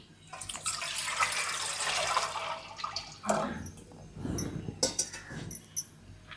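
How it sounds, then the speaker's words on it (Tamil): Water is poured into a cooking pot over chana dal in a village home kitchen, a steady splashing stream for about three seconds, then brief sloshing and a few sharp metallic clinks of vessels nearby. "தண்ணி ஊற்றுருவோம்."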